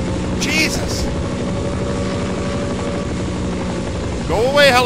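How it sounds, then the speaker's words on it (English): A helicopter in the Half-Life mod C.A.G.E.D. drones steadily with a loud rotor and engine hum throughout, joined by short high electronic chirps and whines. "Go away, helicopter. I don't have any weapons that can damage you."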